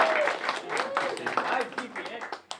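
A TEDx audience claps in scattered, moderately loud applause while a speaker keeps talking over it.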